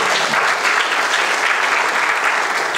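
Dense, loud audience applause at a KNUST graduate students association gathering in Ghana, a continuous wash of clapping from many hands that holds steady throughout.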